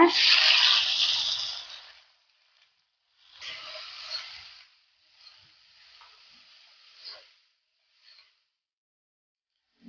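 A large handful of onion drops into hot oil with popped mustard seeds and curry leaves for a chicken kuzhambu, giving a loud burst of sizzling that settles into shorter, fading sizzles as it is stirred, then quiet.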